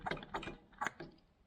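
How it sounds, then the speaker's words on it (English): A handheld vacuum pump is worked for brake fluid bleeding on a 2006 Lexus IS350, giving four close, rhythmic mechanical clicking strokes with a ratchety rattle, each stroke slightly spaced, fading at the end. "So I will pump up some vacuum here to 15 psi."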